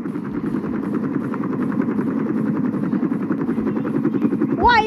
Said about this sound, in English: Why is there an Apache helicopter?